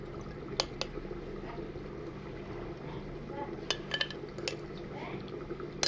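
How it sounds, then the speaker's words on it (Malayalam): Salted mango pieces go into a pot of ash gourd curry, giving a few light clinks and knocks of utensil against the pot over a low background hum, with faint liquid movement. "ഇനി അതിലേക്ക് നമുക്ക് രണ്ട് കഷ്ണം ഉപ്പുമാങ്ങയും കൂടി നമുക്ക് ചേർക്കാം"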